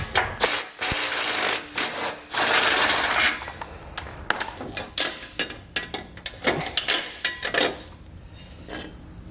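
A ratchet with a 15mm socket clicks in quick bursts of rapid ticking, separated by brief pauses, while bolts are loosened from a vehicle's fascia supports for a base plate installation.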